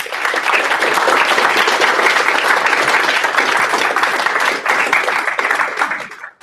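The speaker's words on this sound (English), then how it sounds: "let's give them a round of applause." Audience at a regional finals award ceremony bursts into sustained loud applause, dense clapping holding steady for about six seconds before fading out.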